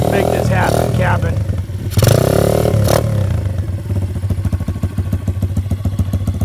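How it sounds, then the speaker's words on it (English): A Tao Tao DB17 125cc dirt bike engine fires up and runs loud and close, its steady rattling idle turning into rapid pulsing putts, with people talking over it. "Firing it up. Yeah, there we go. Initial run for Dorito."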